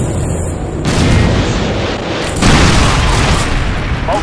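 AGM missile strikes from the Modern Warfare 2 campaign mission Contingency detonate in loud, heavy booms, several rolling explosions in succession with deep rumbling tails and no talk.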